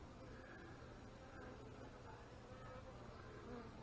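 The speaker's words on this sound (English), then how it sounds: "Lots of bees." Honey bees hum steadily around an open hive while a beekeeper adds brood boxes; the faint, continuous buzzing swarm drones without a break.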